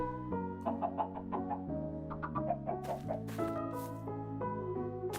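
Chicken clucks from Minecraft, a few short soft clucks scattered over steady game music, with no talking.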